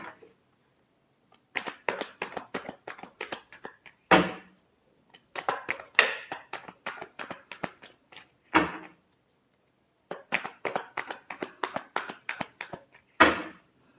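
A deck of cards is riffle-shuffled in several bursts of rapid, crisp flutters, each ending in a firm bridge-and-tap thump, with short quiet gaps between rounds.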